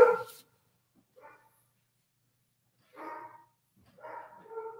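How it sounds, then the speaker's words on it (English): Several dogs bark faintly in the distance, with a few scattered bursts separated by long quiet gaps and no talking over them. "I've got some barking dogs I need to take care of"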